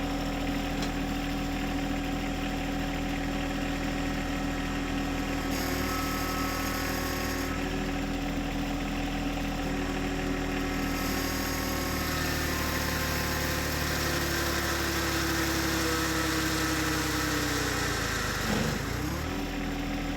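A John Deere 1025R compact tractor in four-wheel drive idles steadily at close range, a continuous mid-pitched engine drone holding even throughout with a brief dip near the end.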